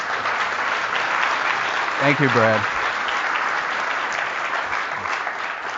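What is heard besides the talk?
audience applause at a keynote talk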